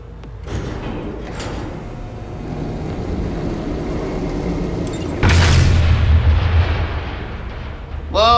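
An explosion in the Batman Telltale video game erupts as a sudden loud, broad roar that swells and lingers after a tense stretch of rumbling game ambience, followed by a faint tonal whine.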